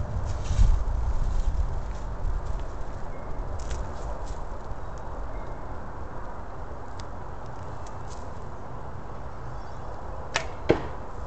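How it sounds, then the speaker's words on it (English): Aluminum arrows loosed from a bamboo, bubinga and hickory longbow, heard outdoors as a steady broadband rush with a few sharp snaps of release and impact, the loudest crack near the end, and no talking. "Just a little demonstration of how this bow shoots."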